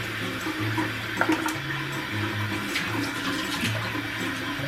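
Water from a bathroom sink tap runs steadily while a face is being wetted, a continuous close splashing rush with small drips and no talking.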